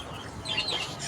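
Birds chirp on a farm with native chickens, a few quick high tweets rising over a low, steady outdoor background, moderately close and fairly faint.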